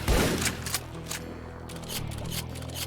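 A shotgun blasts in the Ashes 2063 video game, one loud close shot at the start, followed by lighter mechanical clicks and a low steady in-game hum.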